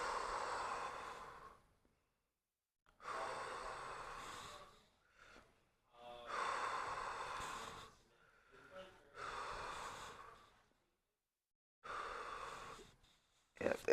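Slow, deep breaths drawn while pressure is held on a neck and shoulder-blade trigger point with a cane, four or five long airy inhales and exhales separated by quiet pauses, close and soft.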